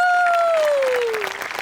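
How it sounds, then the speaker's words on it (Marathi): A studio audience claps in a comedy show, dense applause rising under a fading tonal sound that glides downward, then continuing as a loud, close-sounding burst of clapping. "त्यांच्यासाठी टाळ्या वाजूया"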